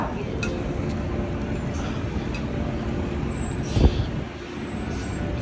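Accessible F train on the Milton line riding along the track in the morning, a continuous rumbling roll with faint rattles and a brief louder knock partway through; no clear talk over it.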